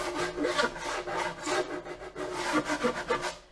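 Rhythmic rasping strokes of sandpaper rubbing back and forth on a pine board, close up and steady, with no talking.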